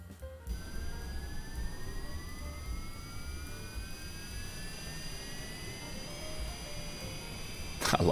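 Twin jet engines of a Cessna Citation Longitude spooling up together in Microsoft Flight Simulator, a rising whine climbing steadily over a low rumble, loud and continuous with no talking.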